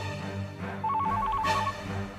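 A telephone ringing indoors, a short warbling electronic ring pattern heard over a low steady background hum.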